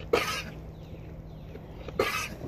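Two short, raspy coughs from a lamb with hay going down the wrong way, close by, about two seconds apart, with quiet background in between.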